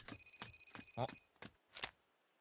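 A phone message notification rings in a rapid series of electronic chirping pulses, followed by a couple of separate bright tones, in a dubbed anime scene.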